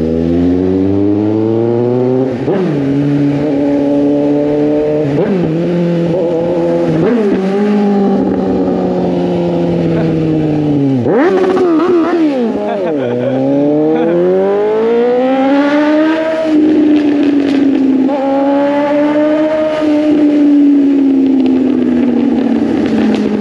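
A Suzuki GSX 750 motorcycle with only an exhaust pipe revs hard and climbs through several gears shifted without the clutch, the pitch dropping sharply at each abrupt shift before rising again, loud and close.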